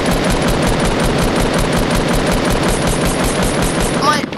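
Rapid automatic gunfire from a shooter video game rattles continuously in dense bursts, loud and close, with a few faint sounds at the very end.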